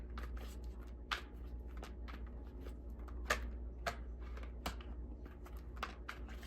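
Soft papery riffles and sharp flicks of tarot cards being shuffled over and over, close by, over a steady low hum.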